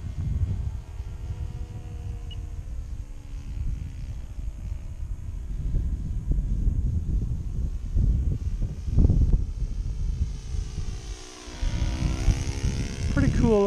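A small yellow RC sport plane powered by an OS 26 FS four-stroke engine flies with a steady, buzzing drone that rises and falls in pitch as it passes, while people talk nearby.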